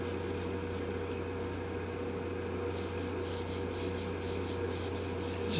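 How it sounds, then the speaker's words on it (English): Guitar soundboard finish being hand-polished with polishing compound and a cloth, a faint, even rhythmic rubbing swish of repeated strokes over a steady low hum. "I'm going to take a little bit of polishing compound."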